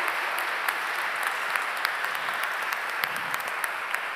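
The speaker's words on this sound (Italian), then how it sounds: "Applauso grande a una grande giuria." An audience at an international guitar competition applauds the jury, with steady, dense clapping from a crowd holding an even level for several seconds.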